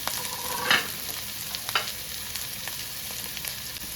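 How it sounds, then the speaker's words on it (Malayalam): Onions fry in hot coconut oil for a beef roast, giving a constant close sizzle broken by a few sharp stirring scrapes against the pan. "നമ്മൾ വെളിച്ചെണ്ണ ഒഴിച്ച് ചൂടായിട്ടുണ്ട് കേട്ടോ ഇനി നമുക്ക് ഇതിലോട്ട് സബോള ഇടാം"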